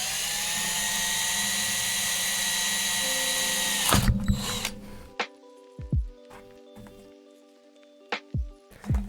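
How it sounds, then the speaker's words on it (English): A high-pitched drill whines steadily for about four seconds drilling holes into a pixel controller enclosure, then stops abruptly, followed by scattered knocks and clunks of handling. "So I'm going to drill those all out first."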